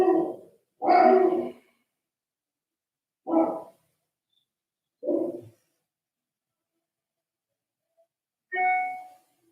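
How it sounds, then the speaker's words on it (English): A dog barks five times in short, separate bursts spaced a second or two apart, fairly close and clear against a silent room. "there's my dog saying hello"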